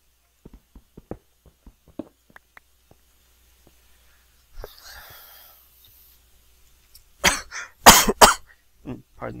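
A man with a sore throat coughs, first in a run of soft, scattered little coughs and throat clicks, then after a quiet pause in two or three loud, harsh coughs close to the microphone.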